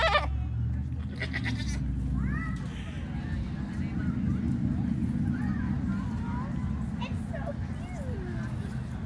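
Goats bleat repeatedly while being fed at a farm, their wavering calls rising over a busy background of people talking nearby.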